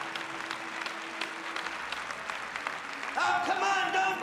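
A church congregation breaks into applause at a French-language service, a burst of clapping that starts after a stretch of quieter room sound and continues steadily to the end.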